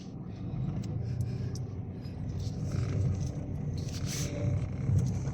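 Car driving along a wide mountain road in Brgy. Cantao-an, Naga, Cebu, Philippines, a steady close engine and tyre rumble with brief scraping rattles.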